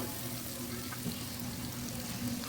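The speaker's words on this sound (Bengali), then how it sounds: "মশলাটা একটু ভালো করে ভেজে নেব তেলের মধ্যে" Cumin, turmeric and garlic paste frying in oil for a hilsa and tomato curry, giving a steady, even sizzle that holds without a break, heard up close and alone.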